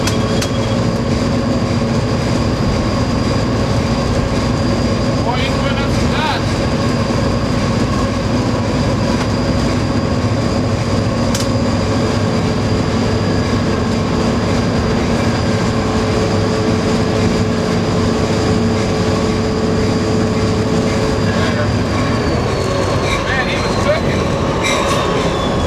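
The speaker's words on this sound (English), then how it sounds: "Eastbound Zephyr coming at us right now." The eastbound Amtrak California Zephyr passenger train approaches with a loud, steady rumble and droning engine tones, heard over a long stretch with faint rail clatter and voices talking.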